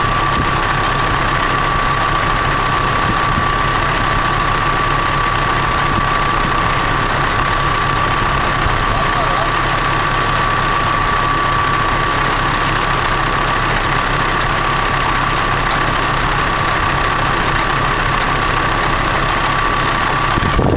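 A Massey Ferguson 6445 tractor engine runs close and loud, holding a steady, unbroken idle drone with a slight knocking texture throughout and no voices.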